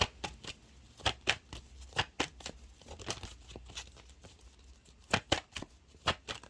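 Numerology card deck shuffled by hand, a close series of crisp riffling snaps and soft slaps in an uneven, repeating rhythm, with no talking.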